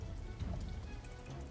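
Heavy rain pouring down, a dense, continuous hiss and patter of drops on surfaces, loud and close throughout the short stretch with no voices.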